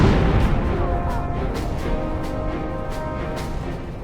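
A missile launch in Ace Combat Zero, a loud burst of rushing roar at the start fading into a sustained jet rumble with repeated faint sharp pops.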